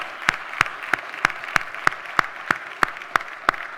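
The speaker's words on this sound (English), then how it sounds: "Can we just give the right energy, the right spirit in the room, and just give them a big round of applause?" Slow, evenly spaced claps at a business networking session in a conference room: about eleven sharp, separate hand claps at a steady rhythm over a quiet room hum, more like one or two people than a crowd.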